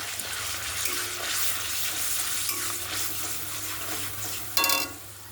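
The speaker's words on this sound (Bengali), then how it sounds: "টমেটো পিউরি দিয়ে নেড়ে দিলাম" Tomato puree gets stirred in a frying pan for a vegetarian paneer dish, a close, continuous sizzle with soft scraping strokes and a brief louder splashy burst near the end.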